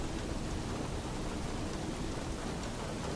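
A rainstorm pours outside a lighthouse at night, a dense, even hiss of heavy rain with a low rumbling undertone, steady and unbroken throughout.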